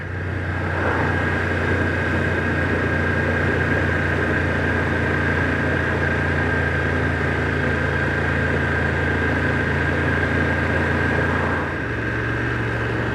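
A 2025 BMW F900R motorcycle engine droning steadily while riding, a constant close mechanical hum with wind rush, shifting slightly in pitch near the end, no talking.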